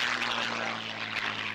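A Spitfire 9's piston engine drones loud and steady as it flies past at an air show, a continuous roar with no pauses.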